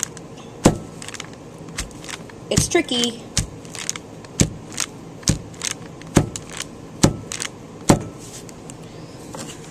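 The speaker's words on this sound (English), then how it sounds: "I'm going to tap it on the table to let the bubbles come up from the bottom" A slip-cast clay mold is tapped repeatedly on a table, giving a steady series of sharp, fairly loud knocks about once a second, with a brief remark spoken partway through.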